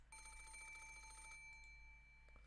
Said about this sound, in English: The phone seems to be ringing.